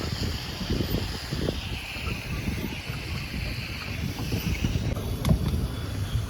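A small boat moves on Boje Pokhari lake in Nepal. Water sloshes and wind rushes steadily, a single knock lands near the end, and voices may be faintly heard.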